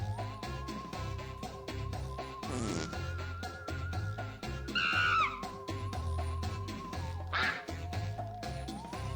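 Cartoonish duck quacks from a Jackbox Party Pack game, a few distinct quacks over steady looping electronic game music, fairly loud and upfront.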